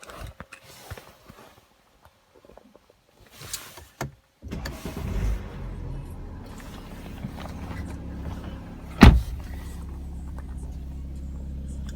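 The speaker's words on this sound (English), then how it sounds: "we'll move on inside and we'll start the vehicle up." A BMW 335d diesel engine starting up from inside the car, with soft clicks and mechanism noises first, then a cranking catch and a steady low idle rumble that continues close by.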